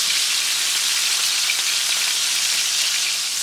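Aloo keema tikki, potato and minced-meat patties, frying in a pan with a steady, dense, close sizzle that holds evenly throughout, with no voices.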